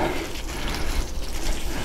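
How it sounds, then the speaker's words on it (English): Water pours from a watering can onto a garden hotbed, a continuous close splashing and pattering that stays steady throughout. "And now we'll put another can full of water onto here and spread it around again."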